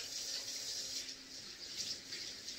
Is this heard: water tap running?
yes